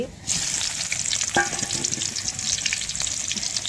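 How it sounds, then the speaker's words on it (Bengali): Spiced battered eggplant slices dropped into hot oil, with a loud, dense, continuous bubbling sizzle that swells as they go in and holds steady throughout. "দেখেন আমি ঝাল হলুদ পেঁয়াজ রসুন একসাথে আমি মেখে নিছি বেগুনি মেখে এবার আমি দিয়ে দিচ্ছি"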